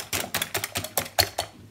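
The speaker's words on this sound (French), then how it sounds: "on fait blanchir les œufs avec ce sucre, c'est-à-dire qu'on mélange un petit peu" Eggs whisked with sugar in a bowl for a crème caramel, producing a fast, even run of rhythmic clicking taps, about eight strokes, close and clear with no talking.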